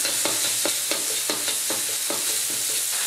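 Minced pork is stir-fried in a hot wok with a little oil, a constant loud sizzle broken by regular scraping strokes of a spatula roughly every third of a second.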